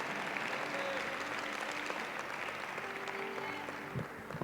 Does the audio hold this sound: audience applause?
yes